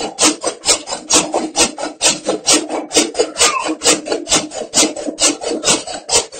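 A silage sheet is loosened and worked into a white bag, giving a steady run of close, loud plastic rustles and scrapes in quick repeated strokes, with no talk.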